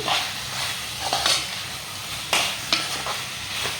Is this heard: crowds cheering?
no